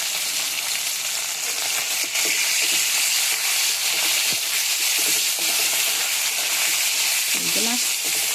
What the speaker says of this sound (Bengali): কড়াতে তেল দিয়ে দিলাম, তেলটা গরম হয়ে যাক।